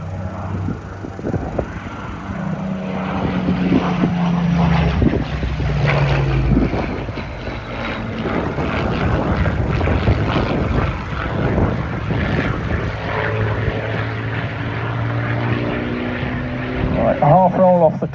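Propeller-driven aerobatic aircraft perform at the Headcorn International Airshow, their engines droning and rising and falling in pitch as they pass, fairly loud throughout, with a commentator talking over the noise.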